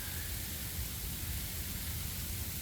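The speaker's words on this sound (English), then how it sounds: "right now, it is raining and freezing at the same time" Rain falls outdoors in freezing conditions, a dense and even hiss that stays steady throughout with no breaks.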